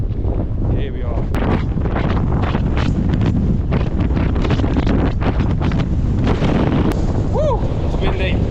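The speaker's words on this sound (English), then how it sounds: "It's windy." Strong wind buffets the microphone on a hilltop, a loud continuous roar with gusty bursts, and a voice speaks briefly over it.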